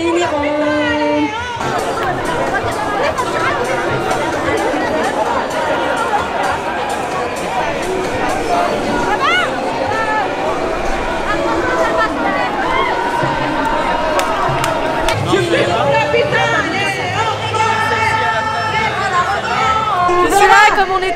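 Protesting healthcare workers fill a Paris street demonstration with loud, continuous crowd chatter and shouting. Voices rise and fall close by, with scattered cheers and calls over the dense babble.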